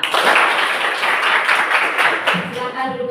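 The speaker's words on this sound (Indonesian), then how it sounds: "Oke, tepuk tangan semua" A classroom of students clapping their hands together in a dense, steady burst of close claps, with a few voices calling out near the end.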